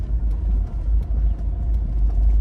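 Car driving slowly over a potholed road, a steady low rumble with engine drone and faint knocks from the uneven surface.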